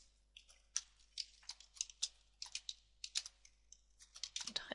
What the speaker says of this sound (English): I'm going to type in